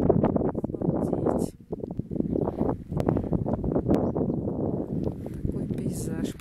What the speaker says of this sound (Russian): Вот, резко ветер поднялся.